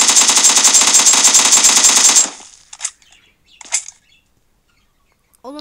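Automatic gunfire in the PUBG video game, a dense sustained rattle of rapid shots for about two seconds, loud and close, then cut off, followed by a few sparse in-game sounds.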